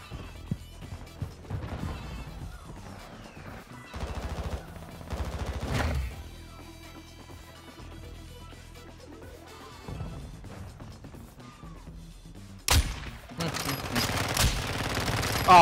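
Rapid gunfire bursts in a Call of Duty match, with clusters of shots early on, a quieter stretch, then sharp loud bursts near the end, mixed with game sounds and some talk.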